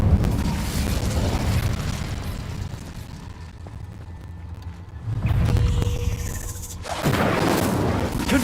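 Incendio fire spell cast in the wizarding game Hogwarts Legacy, loud whooshing flame bursts that roar up, die back to a quieter rumble, then flare again twice.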